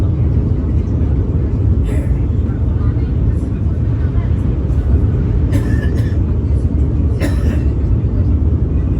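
Train rolling onto the Bogibeel bridge, a loud, steady low rumble of running wheels and carriage noise throughout, with a few faint higher clanks over it.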